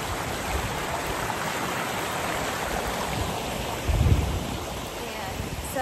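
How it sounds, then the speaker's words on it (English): A creek on a hiking trail flows with a steady broadband rush, fairly close, and a brief louder splash or surge near the middle, with no clear talk. "I'm gonna get across this creek."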